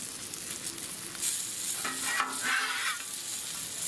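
Chicken for General Tso's frying in hot oil on a Blackstone griddle, a steady close sizzle with stirring and scraping sounds rising partway through.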